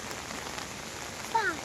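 Rain falls steadily on surfaces in a village, an even, close patter across the short moment, with a brief louder burst near the end.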